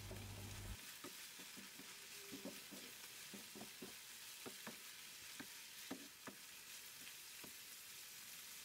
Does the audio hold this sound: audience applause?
no